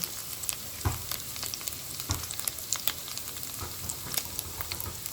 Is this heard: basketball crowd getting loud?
no